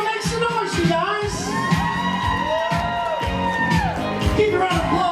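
Wedding guests cheering, whooping and shouting at a reception, a loud sustained crowd roar with high whoops rising above it, while an announcer's amplified voice talks over the noise.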